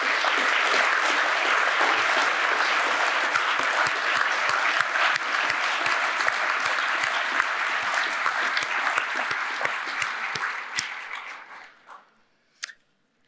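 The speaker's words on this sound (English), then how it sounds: "Ladies and gentlemen, please applaud the new Fellows of the Academy of Arts and Humanities." Audience applause at an induction ceremony for new fellows of an academy, steady and fairly loud with distinct individual claps audible, continuing for about eleven seconds before tapering off to a final stray clap.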